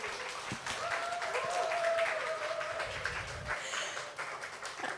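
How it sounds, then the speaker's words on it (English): Applause from a crowd at a sake brewery tasting event, a soft diffuse wash of clapping heard at moderate distance with a faint tone and some low knocks beneath. "ขอเสียงปรบมือด้วยค่ะ"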